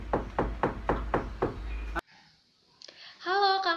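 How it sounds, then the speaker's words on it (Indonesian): Knuckles rap on a door in a children's worship program: about six evenly spaced, firm knocks, followed by a quiet pause and then a brief voice. "Coba Bang Jan, kita ketok pintunya Bang Jan."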